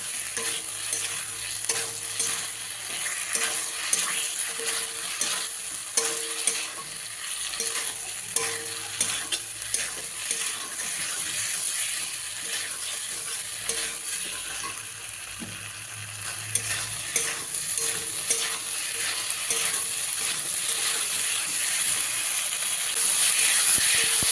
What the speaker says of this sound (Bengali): এবার ভেজে রাখা আলুগুলো দিয়ে দেবো আলুর সাথে মশলাটাকে আবার ভালো করে কষে নেবো